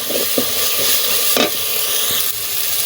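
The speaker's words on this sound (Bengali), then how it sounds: "এভাবে কিছুক্ষণ কষিয়ে দিতে হবে" Dried whole red chillies being stir-fried in a pan, a steady close sizzle with occasional scraping stirs of a spatula, no talking.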